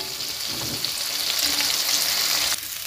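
Eggplant being stirred as it fries in oil in a wok, a loud continuous sizzle and crackle with scraping stir sounds, close and alone.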